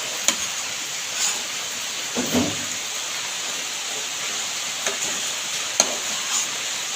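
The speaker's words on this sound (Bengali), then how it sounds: "নেড়ে চেড়ে আবার একসাথে করে মিশিয়ে নেব" Mashed boiled potato with chopped coriander and green chili being stirred and mixed in a hot pan, a low steady hiss with a few light spoon scrapes and taps, close and without talk.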